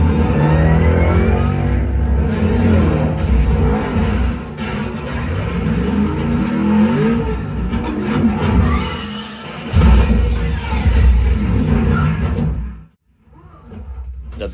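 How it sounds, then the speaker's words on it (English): Futuristic race-scene vehicles from Ready Player One roar and rush past amid crashing debris, a loud, dense, sustained rumble with surging engine sweeps, briefly dropping out near the end before returning. "You'll hear vehicles rushing past you, car crashes with pieces of them flying all around you, and explosions that have some really good bass."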